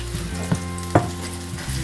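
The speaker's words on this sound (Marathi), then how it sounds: "आता आपला कांदा थोडा फ्राय होते" Chopped onion frying in hot oil in a pan for a Malvani chicken sukka masala, a steady close sizzle with two brief stirring clatters over the hiss.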